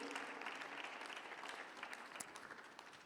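A church congregation applauds during a Sunday morning sermon, a steady, even wash of many hands clapping that fades slightly toward the end, heard at a moderate distance with no speech over it.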